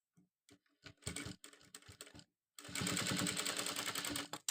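A sewing machine stitches a school uniform top placket in bursts, first with short stop-start runs of rapid clatter and then one long continuous run close by, with quiet pauses between.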